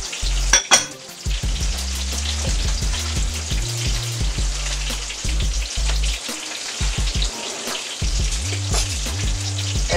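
Onion and celery frying in about a tablespoon of oil inside a pressure cooker, a dense continuous crackling sizzle close up, with a low tonal hum running beneath in stretches.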